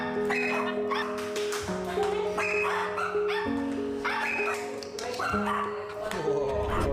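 A young dog that has lost two paws yips and whimpers in rapid, high-pitched cries throughout, with music and a voice running underneath.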